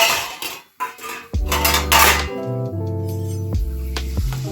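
A plate picked up and handled in a home kitchen while papad is being roasted: close ceramic clinks and scrapes, then a sustained ringing resonance from the dish, with no talking.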